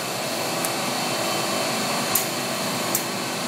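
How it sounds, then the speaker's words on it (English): Air pressure rushes through the lines of a sampler unit as its circulator moves: a steady, close hiss is broken by three sharp clicks. "the unit just moved the circulator once, and you can hear the air pressure going through"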